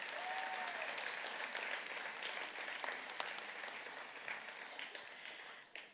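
An audience at a graduation ceremony in a hall applauds steadily, a dense wash of many hands clapping that fades near the end.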